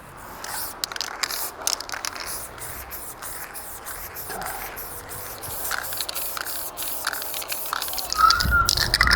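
A spray paint can hisses in a steady, continuous broadband stream with short pulsing bursts, growing louder toward the end, with no talking.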